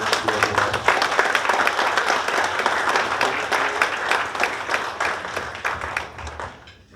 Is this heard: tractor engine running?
no